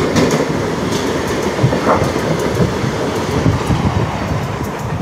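Onboard a Vasai–Diva MEMU local train, a steady rumbling roar of the moving coaches carries faint rhythmic wheel clatter throughout, with no talking.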